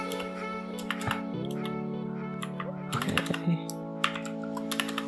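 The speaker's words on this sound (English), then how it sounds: "so I'll type" A rapid run of crisp keystrokes on a computer keyboard as a file name is typed. The clicks come in quick bursts over a steady tonal background hum.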